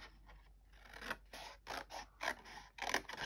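Scissors snip around paper for scrapbooking in a rapid series of close, crisp cuts with short pauses between bursts. No one speaks.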